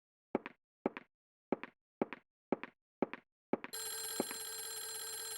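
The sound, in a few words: telephone ringing in the video game Clock Tower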